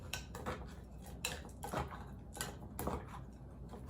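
A spoon clinks and scrapes against a bowl in a quick irregular series of sharp taps while oats, nuts and fruit are stirred into yogurt, quiet and close with no talking.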